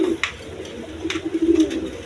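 A pair of large pigeons gives soft, low coos close by, a few brief throaty calls over quiet background with no talking.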